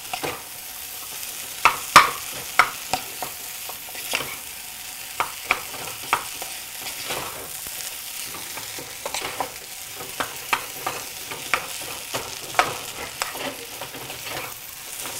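Spoon stirring a spice mixture with cooked potatoes in a hot pan in an Indian home kitchen, a steady scraping and frying hiss punctuated by irregular sharp clinks and scrapes throughout.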